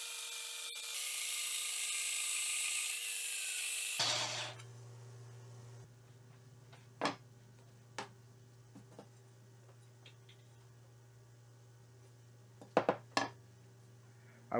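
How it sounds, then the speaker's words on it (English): A small metal bandsaw cuts the shape of a prop machete blade, whirring steadily for about four seconds, then dropping to a faint hum broken by occasional knocks. "It's now time to cut the main shape of the blade. For that, I'm using my metal bandsaw."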